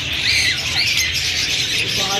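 Fischer's lovebirds squawk at a busy bird market, shrill overlapping chirps close by against a low murmur of crowd noise.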